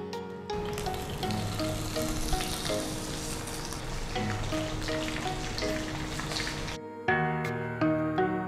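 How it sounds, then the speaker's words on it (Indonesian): Steady, crackling sizzle of pindang fish frying in reused tofu-frying oil, loud and continuous, with a brief quieter pause near the end before the sizzling resumes. "bekas sisa goreng tahu kita untuk menggoreng ikan pindangnya"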